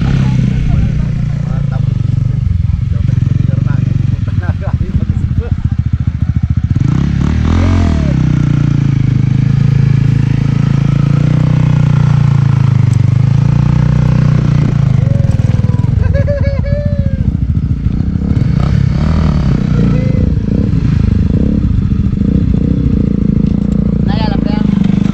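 A motorcycle engine drones steadily and loud as the bike is ridden up to a hilltop campsite in Igbaras, Iloilo, with the throttle rising and falling throughout and voices talking over it.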